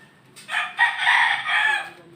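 A single rooster crows nearby, one full cock-a-doodle-doo lasting about two seconds, fairly clear over a quiet background.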